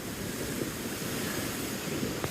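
Ocean waves wash steadily against a foggy shore, a continuous broad hiss of surf mixed with wind noise, fairly loud and unbroken with no voices.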